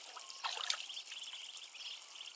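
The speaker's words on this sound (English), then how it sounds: "Stop splashing me!" Water splashes and trickles faintly during a swim, with soft, scattered dripping and sloshing and a slightly brighter burst near the middle.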